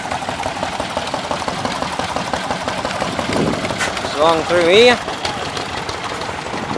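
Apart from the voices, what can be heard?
old engines running at a steam rally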